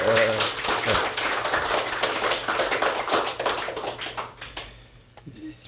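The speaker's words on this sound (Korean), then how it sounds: "우리 박희도 전 육군참모총장님과 그 임원들을 위해서 한번 박수 한번 해주시죠." An audience at a Korean academic seminar's opening ceremony claps for a former army chief of staff and his fellow officers: a dense, loud patter of hand claps that thins out and fades toward the end.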